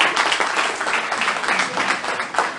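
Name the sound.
applause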